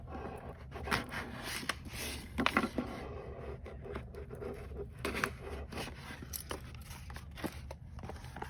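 An iPhone 16 Pro Max box is cut open, with close scraping, scratching and tearing of packaging in uneven bursts over a steady low background hum, and no voices.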